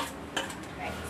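Mashed potato stirred into a cooked chicken and vegetable mixture for Russian kebab cutlets, giving a brief, quiet scrape with a single utensil clink against the bowl.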